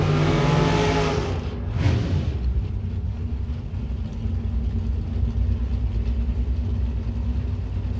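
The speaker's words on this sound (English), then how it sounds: "Here comes Craig Porter in the Mustang out of Henry's Wrecker Service" A Ford Mustang drag car launches at a Gainesville drag strip, a loud roaring engine that surges, dips briefly, then holds a heavy sustained rumble as it pulls away.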